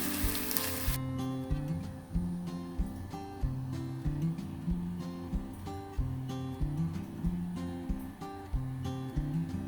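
Food sizzles steadily in a hot frying pan just after being flipped, a continuous close frying hiss with an opening burst and faint tonal hum beneath, no voices.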